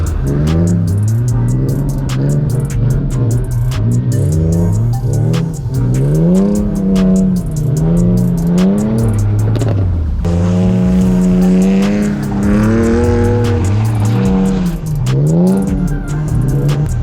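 A BMW car engine screams at high revs while drifting in snow, repeatedly surging and cutting out as it bounces off the rev limiter, loud and continuous.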